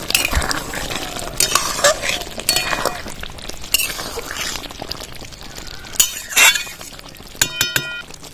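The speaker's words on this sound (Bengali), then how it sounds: "10 মিনিট হয়ে গেছে, এবার ঢাকনাটা খুলে নেব।" A metal lid comes off a pot of doi potol curry with sharp clinks and clatters, followed by more scattered knocks and scraping of utensils against the cookware.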